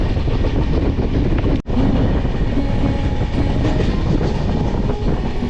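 Bagh Express train rumbling past at close range on a line through green farmland in Bardhaman district, a loud continuous roar with wheel clatter that holds steady throughout, with one brief dip partway through.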